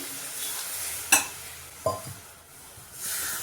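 Ginger and garlic sautéing in ghee: a soft, steady sizzle with two sharp scraping stirs of a spoon against the pan, quiet and close, with no talking.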